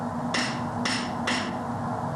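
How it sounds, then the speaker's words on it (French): Three distinct, evenly spaced hammer blows flattening gold and silver alloy beads into a metal sheet, each strike bright and metallic over a low steady hum, fairly close and alone. "Les billes sont dans un premier temps aplaties au marteau pour former une feuille de métal"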